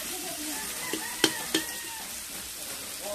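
Squid sizzling in a hot pan with red onions and chili, a steady crackling fry with a few sharp spatters and pops partway through.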